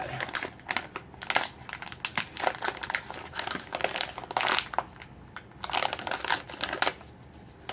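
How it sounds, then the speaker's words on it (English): Caramel sea salt bite snack packaging crinkles and crunches close up as it is torn open, a dense run of sharp plastic rustles and crackles in bursts, with no talking. "Rip the dang thing off and it's still sealed."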